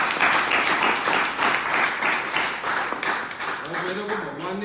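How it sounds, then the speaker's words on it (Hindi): An audience at an indoor gathering gives loud applause to an honoured guest. Dense, steady clapping fills the whole stretch, with a faint voice emerging near the end. "तो देखिए सर के लिए जोरदार ताली"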